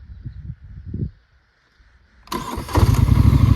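A Polaris Sportsman 850 SP ATV with about 60 hours on it sits quiet for a moment, then the engine cranks and catches, settling into a loud, rough idle close by after some faint shuffling.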